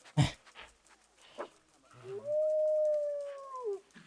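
A timber wolf howling in the zoo-building game Planet Zoo, one clear rising and falling howl of about two seconds after a few soft thumps and rustles, fairly quiet and alone.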